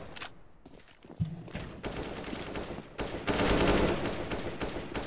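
Gunfire rattles through a Counter-Strike match: scattered single shots, then rapid automatic bursts that grow louder and denser. Footstep-like clatter mixes in.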